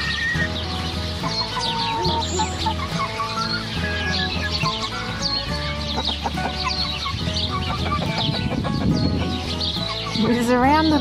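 Chickens cluck and chatter continuously close by in a homestead chicken pen, with a rooster-like call and bird chirps over a low background hum and a voice.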